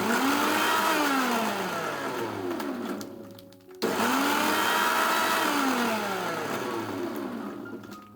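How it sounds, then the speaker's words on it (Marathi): A kitchen mixer grinder whirs steadily as it blends milk and coffee into cold coffee, loud and continuous, briefly cutting out midway before restarting for another long, even run. "शेवटचा 1 मिनिट तुम्हाला कंटिन्यू मिक्सर फिरवायचा आहे"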